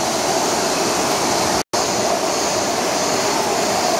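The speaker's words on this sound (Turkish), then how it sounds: "Su nereden çıkıyor şuna bak, nasıl kaynıyorsun? Tam kayaların içinden kaynıyor." Spring water gushing up from among rocks at Salt Lake Demre, a steady loud broadband rush heard close and alone, with a brief dropout partway through.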